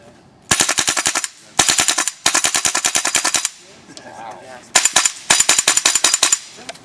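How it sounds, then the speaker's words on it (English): An airsoft AK rifle fires in several loud, close bursts of rapid full-auto shots, each burst a quick chattering string, separated by short pauses. "Is that the fucking AK? Yeah. Shoot PJ right in the back"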